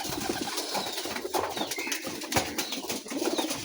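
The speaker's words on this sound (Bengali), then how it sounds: "এখন কবুতরকে খাবার দেবে" Raj Golla pigeons at a loft coo steadily at feeding time, with soft wing flaps and bird calls that fill the whole stretch at a moderate, close level, and no talk.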